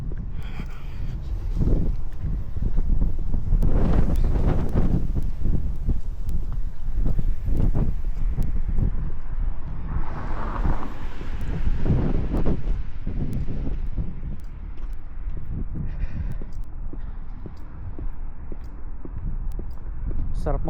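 Wind buffets the microphone during an outdoor walk in New Zealand, gusty rumbling bursts that come and go, with someone talking throughout.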